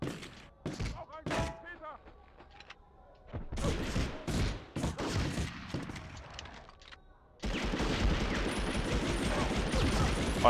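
Pistol gunfire in the video game Medal of Honor Underground, with several sharp, loud shots and thuds in bursts over game noise, ending in a sustained dense roar of combat sound.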